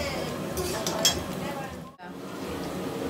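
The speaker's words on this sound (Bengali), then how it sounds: "আলু ভাজা হচ্ছে এখন কড়াইয়ে।" Potatoes fry in a wok with a steady sizzle, and utensils clink against the pan now and then. People talk nearby, and the frying continues with one short break near the end.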